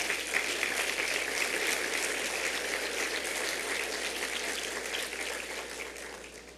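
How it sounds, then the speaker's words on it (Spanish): Church congregation clapping for God during a sermon, a steady, dense patter of many hands from a sizeable crowd that gradually fades toward the end. "Dele un aplauso a Dios."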